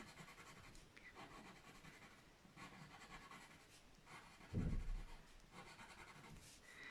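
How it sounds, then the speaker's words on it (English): A normal graphite pencil shades on paper for a drawing, with soft, rhythmic scratchy strokes repeating back and forth at close range and one heavier rub near the end. "this is just with a normal pencil"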